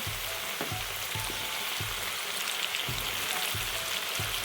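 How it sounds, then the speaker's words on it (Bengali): Leftover chicken wing ingredients fry in the same oil, giving a steady, close hiss of sizzling broken by a few soft, regular low knocks throughout. "তারপর সেম তেলেই বাকি জিনিসগুলো আছে সেগুলো ফ্রাই করে নিচ্ছি"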